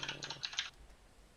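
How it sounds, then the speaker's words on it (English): Rapid clicking of keys on a computer keyboard, a quick close burst of keystrokes that stops partway through, leaving quiet room tone. "Oh my god, why is the keyboard not working?"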